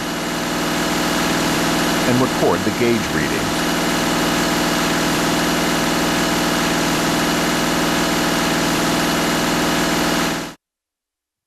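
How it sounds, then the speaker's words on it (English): A common-rail diesel engine runs at a steady high idle with an even mechanical drone and vibration; someone speaks briefly over it before it cuts off. "Run the engine at high idle"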